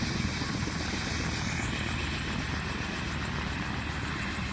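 Steady, loud helicopter rotor and turbine roar during a landing, a constant whooshing drone with no speech.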